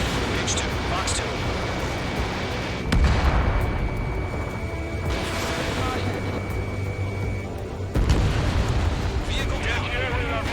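Anti-aircraft guns fire and explosions boom in Ace Combat 7 combat, a dense, continuous roar of blasts and rumble with louder bursts near three and eight seconds, while voices talk over the noise.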